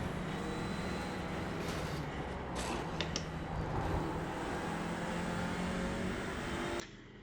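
A car engine in the Assetto Corsa racing game plays as a steady, fairly quiet droning hum with no talking, then cuts off abruptly near the end.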